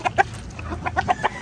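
Hungry young roosters (stags) cluck in a quick series of short, sharp calls, close by, first two together, then a pause, then four more in a loose rhythm.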